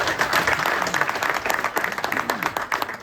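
Audience applause at a motivational business event in a resort hall, a busy mass of claps with some individual hand claps standing out, and faint crowd voices mixed in.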